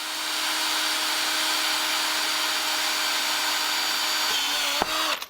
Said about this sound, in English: I'm letting the drill do the work